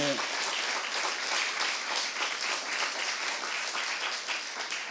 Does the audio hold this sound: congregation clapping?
yes